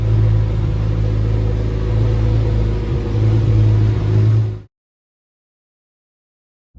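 A Porsche 911 drives along with a loud, steady engine drone and road rumble heard from inside the car, swelling slightly before cutting off abruptly into silence.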